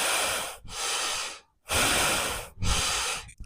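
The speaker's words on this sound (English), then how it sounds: "as you go back down into your squat, you exhale" Breath during a Kundalini yoga squat workout, three strong rushing exhales separated by short silences, close to the mic and with no speech.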